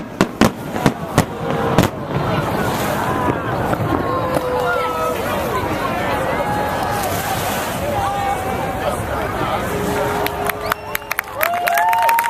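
Fireworks burst over Torquay during an August night display, sharp cracks at the start and end around a dense, continuous crackling barrage, with a crowd murmuring and people talking nearby.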